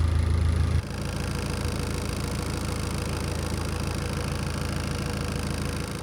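A narrowboat's engine runs steadily on a canal, a continuous low diesel chug with even rhythm heard close by and alone, slightly louder in the opening moment before settling into a constant drone.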